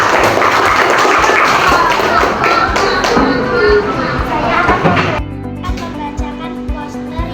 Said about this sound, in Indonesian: Oke, kita kasih tepuk tangan untuk kelompok 1.